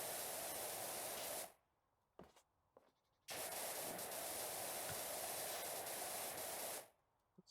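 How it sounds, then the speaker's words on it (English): A pressure washer hisses in long bursts of steady spray while a rundown playground is cleaned in PowerWash Simulator, cutting off briefly in between, then running loud and continuous again. "Just like, spraying the ever-living hell out of this thing."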